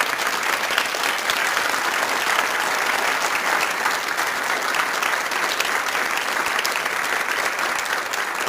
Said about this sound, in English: please join me, we've already done it but maybe one more, in giving them a well-deserved round of applause